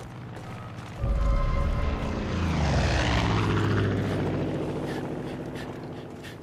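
A propeller airplane in the video game Far Cry 5 roars in loudly and close, sweeping past overhead with a falling pitch, then fades slowly into the distance.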